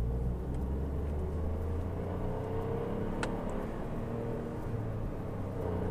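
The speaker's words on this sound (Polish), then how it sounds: "O, właśnie tak zmienia biegi ten samochód." A Peugeot 208 1.2 engine rumbles steadily from inside the cabin while driving, with a brief click midway as the gear changes.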